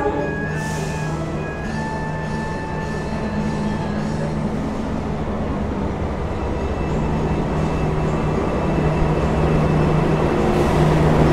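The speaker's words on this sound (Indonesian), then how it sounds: "ini itu adalah kereta api tambahan Gambir Solo yang tadi itu sempat bertemu ya dengan kereta api Argo Cirebon" The Gambir–Solo extra passenger train arrives at a station with a steady loud rumble and drone, tonal hums and squeal-like lines sustained throughout.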